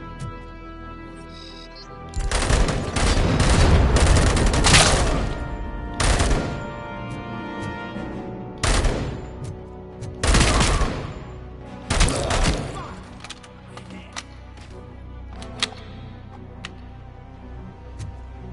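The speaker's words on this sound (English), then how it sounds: "Somebody's still shooting." Heavy gunfire in the RoboCop: Rogue City video game: long rattling bursts, then separate loud volleys a few seconds apart and a few sharp single shots as the fighting tapers off.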